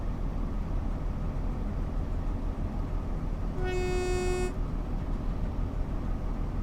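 Diesel train engine in Train Sim World 2 on the Great Western Express, a steady low rumble throughout, broken by a single horn blast lasting about a second near the middle.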